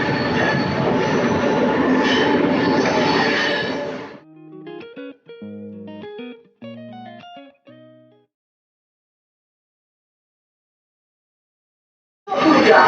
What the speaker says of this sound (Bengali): একটা ট্রেন ছেড়েও দিল, আমরা ওঠার সঙ্গে সঙ্গে ট্রেনটা ছেড়ে দিল।